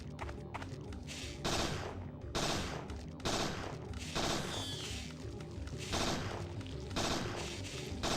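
Handgun fire in the video game Parasite Eve 2, a string of punchy shots roughly every second over a dense game soundtrack, steady and mid-loud with no talk.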